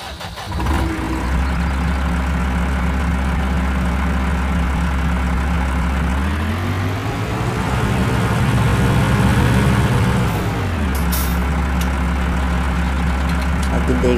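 A Swaraj 855 4x4 tractor idles in Farming Simulator 20, a steady loud low engine drone that rises in pitch briefly mid-clip before settling back to idle.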